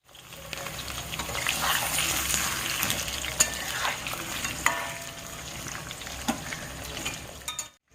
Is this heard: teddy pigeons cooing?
no